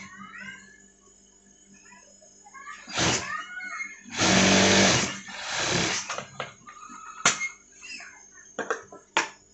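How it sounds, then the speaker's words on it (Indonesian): A sewing machine stitches a back seam on a jacket, heard as short bursts of whirring with pauses and clicks between them, close and moderately loud. "lalu dijahit balik. Kasih jahitan sama dengan yang pinggirnya lagi 1 cm."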